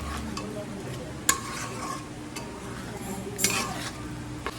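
Coriander and Kashmiri chilli powder, loosened with water into a paste, is stirred into a pan for a prawn dish. A spoon scrapes and clinks against the metal in a few sharp taps over a soft, low sizzle.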